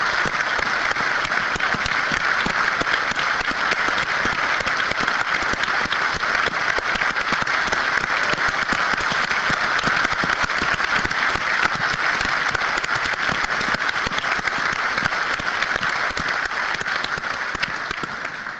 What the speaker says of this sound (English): please stand so we can have a nice round of applause